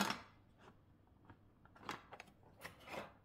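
Scissors snipping and rasping through paper in several short strokes while making a Christmas pocket card, close by, with no talking.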